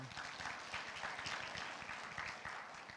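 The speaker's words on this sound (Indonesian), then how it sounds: "Bolehkah kita beri tepuk tangan untuk istri saya?" A crowd applauds for the speaker's wife, with steady, fairly faint clapping that carries evenly for a few seconds.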